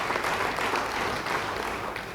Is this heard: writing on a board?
no